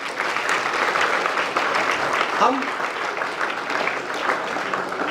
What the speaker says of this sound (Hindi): ताली बजाएंगे भाई के लिए एक बार।